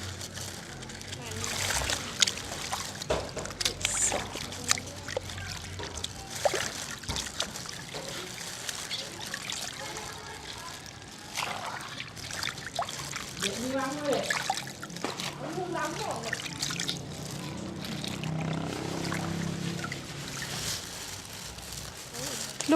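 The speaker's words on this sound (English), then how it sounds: "Okay, we gotta wash the vegetable." Water trickles and splashes as leafy Chinese vegetables are rinsed by hand, with irregular splatters and running water close by while a person talks over it intermittently.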